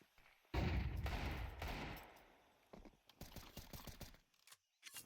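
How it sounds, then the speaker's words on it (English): Gunfire rips through a smoke cloud in Counter-Strike, first a dense loud burst of automatic fire lasting over a second, then a scatter of sharp individual shots and short bursts. "lot of bullets being shot through the smoke here"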